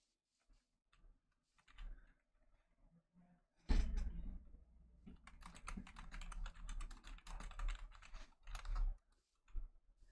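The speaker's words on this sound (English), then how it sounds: "I love hearing typing" Rapid clicking of computer keyboard keys in bursts, fairly close and moderately loud, with faint background sounds and no talking over it.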